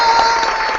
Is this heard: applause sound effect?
yes